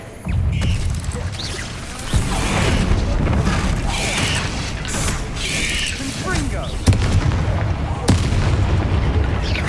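An Incendio fire spell cast in Hogwarts Legacy bursts out as booming, crackling blasts over a rumbling game soundscape, repeated several times with brief pauses, with a voice calling out the spell.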